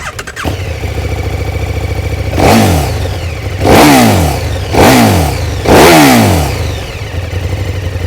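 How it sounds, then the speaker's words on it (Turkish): KTM Super Duke GT motorcycle engine idling with a steady low throb between four sharp throttle blips, each surging to a loud, close high-RPM rev before dropping back, no talking. "gazı açtıkça, yüklendikçe, böyle üst devirlere çıktıkça gelen ses müthiş bir his veriyor"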